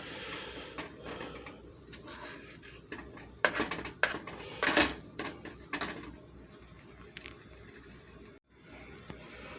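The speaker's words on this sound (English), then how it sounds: "all you have to do is just keep stirring it" A spoon scrapes and knocks against a pot of oatmeal on a stove top, with irregular clinks and taps close by, some louder bursts midway, over a quiet background.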